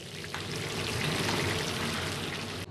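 Honey bread (kkulppang), eighty at a time, deep-fries in a large oil vat, a steady, dense crackling hiss that fills the whole stretch without pause.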